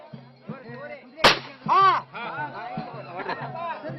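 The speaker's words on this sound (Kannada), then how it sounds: "ಪ್ರತಿಯೊಬ್ಬರು ಇದೇ ರೀತಿ ಗುಂಡು ಹಾರಿಸಿ ಬನ್ನಿಯನ್ನ ಬೀಳಿಸ್ತಾರೆ." A gunshot cracks once, sharp and close, amid a crowd at a Dasara gun puja by a Banni tree, with a trumpet-like tone and steady drone continuing underneath, voices and music around it.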